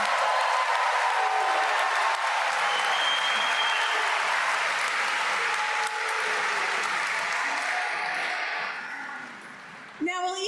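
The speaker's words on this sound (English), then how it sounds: "can we have a round of applause for these outstanding graduates today?" A large crowd at a 2025 law school commencement claps for the graduates in a long, dense, even burst that thins and fades toward the end.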